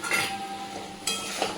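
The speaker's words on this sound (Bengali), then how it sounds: "এবার এই মশলাগুলোকে দিয়ে আমি ভালো করে কষিয়ে নেব" Spices and chopped tomato being stir-fried in a pan for a Bengali red chicken curry, with a soft sizzle under scraping and clinking of a utensil against the pan, a few sharper clinks standing out, moderately close.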